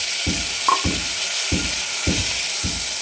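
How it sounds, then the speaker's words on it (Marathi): Sprouted moth beans and peas sautéing in hot oil, with a constant sizzle and five evenly spaced stirring scrapes of a spoon against the pan, close and loud. "दोन मिनिट आपल्याला परतून घ्यायचं आहे चांगलं तेलावर"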